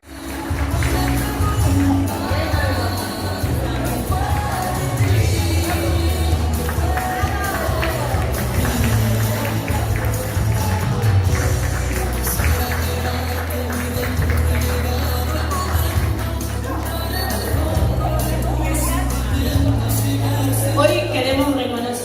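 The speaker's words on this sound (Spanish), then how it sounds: "Fuerte el aplauso." Applause from a crowd at a ceremony honouring a woman, brisk clapping running throughout alongside crowd babble and a steady low musical backing.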